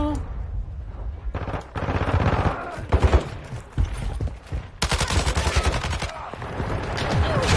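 Rapid bursts of marksman gunfire in a video game, dense rattling volleys with short gaps between them, loud and close, continuing nearly throughout.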